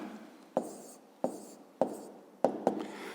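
Handwriting of math notes for a fifth-grade geometry exercise on angles: close, sharp pen taps land about every half second to second, five in all, over faint steady scratching on paper.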